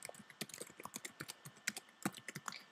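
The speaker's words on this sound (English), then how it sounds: "all you have to do is type in routerlogin.com" Rapid, uneven keystrokes on a computer keyboard as a web address for a Netgear router login page is typed, close and fairly quiet with no talking.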